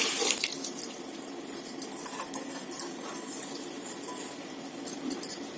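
Water is poured into a pan of sugar to make a syrup, giving a steady, close trickling and splashing wash with soft patter throughout and no talking.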